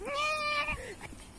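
A cat lets out one loud, drawn-out meow close by, rising and then falling over about a second, followed by a faint softer sound.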